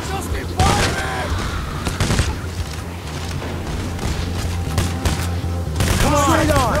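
Heavy sustained gunfire in Payday The Heist, loud bursts and booms rattling almost continuously, with shouting voices breaking through the barrage.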